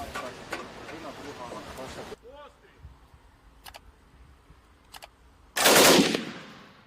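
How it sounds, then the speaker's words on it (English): An automated gun fires in wartime, with short sharp bursts of shots and a loud final blast, heard over background talking. "We now see them firing the automated gun."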